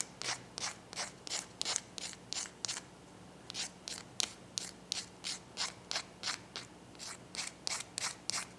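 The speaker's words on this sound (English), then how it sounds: "take one of these sanding sticks like this and just kind of round it off." Quiet, rhythmic rubbing strokes of a sanding stick rounding off a small hard scratch-built model part, repeated about twice per second with a brief pause midway.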